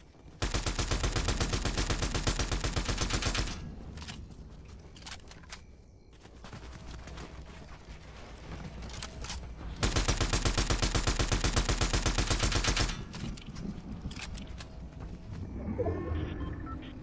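Rapid bursts of assault rifle fire from the Fortnite video game: two long, dense automatic volleys, each lasting about three seconds, with quieter scattered shots and game noise between and after them.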